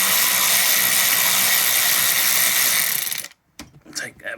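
A ratchet undoes bolts on the thermostat housing of a 1997 Vauxhall Astra F Mk3, a loud, fast continuous clicking close by for about three seconds that stops abruptly and is followed by a few scraping clinks.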